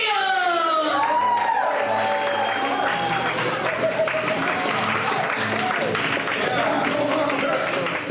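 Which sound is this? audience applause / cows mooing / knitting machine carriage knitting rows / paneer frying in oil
audience applause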